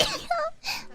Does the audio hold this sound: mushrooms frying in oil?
no